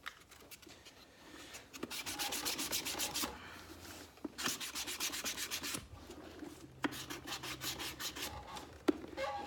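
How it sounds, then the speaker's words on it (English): Sandpaper rubbing over a handmade shoe, quick rhythmic back-and-forth scraping strokes in several bursts with brief pauses and a few knocks, close and clear with no speech. "I'm going to do the other shoe with the sandpaper while I still have it loaded."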